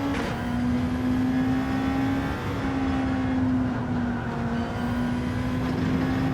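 A Nissan GT-R Nismo GT500 race car in Gran Turismo 7, lapping Watkins Glen with a steady, sustained engine drone held in one gear, loud and continuous with only slight pitch shifts and no talking.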